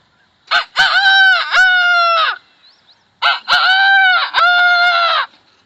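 A voice imitates a rooster crowing, two long loud harmonic cock-a-doodle-doo calls with clucky breaks, given close and alone as a comic animal-sound act.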